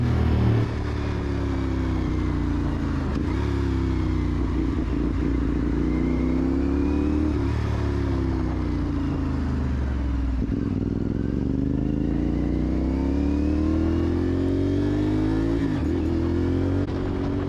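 A CFMoto 450SS motorcycle engine revs hard and close through a wheelie, its pitch sweeping up and down in repeated swells with brief dips between throttle blips, loud and steady with no talk over it.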